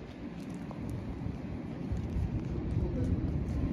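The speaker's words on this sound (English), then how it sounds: "It's a little drizzle going on right now." Light drizzle of rain falling outdoors on a football field before a spring game in Colorado, a steady soft broadband hiss that grows slightly louder, with faint low rumbling and wind underneath.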